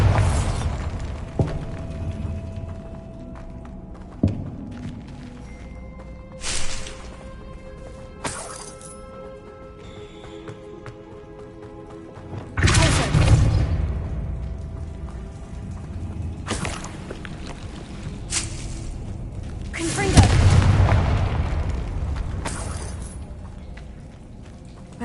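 Bombarda blast spells going off in a Hogwarts video game: several loud booming cracks and crashes spread unevenly, some with long rumbling tails, over quieter game ambience and no speech.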